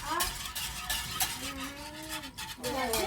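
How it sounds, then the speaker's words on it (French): A metal whisk stirs in a saucepan on a stovetop, giving continuous close scraping and tapping with bright metallic clinks, while a voice talks underneath. "j'utilise un fouet en métal dans mes casseroles"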